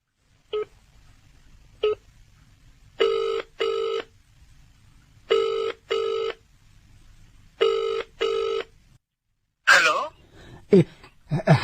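A telephone number is dialed on a keypad as a series of short touch-tone beeps in single and paired bursts, clear and close, followed by a voice starting to speak.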